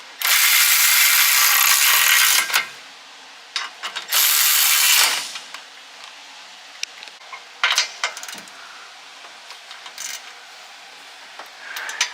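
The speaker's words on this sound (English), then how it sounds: "So we're able to put in the 2 bolts on the back of the caliper brackets." Ratchet clicking as caliper bracket bolts are tightened on a Honda S2000 during a big brake install, loud bursts of rapid pawl clicks alternating with pauses and a few small metallic taps, close up.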